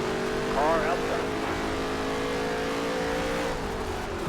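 Race car engines in the NASCAR Heat 3 video game, a sustained loud engine drone with rising and falling pitch as cars pass, heard under an ongoing spotter's voice.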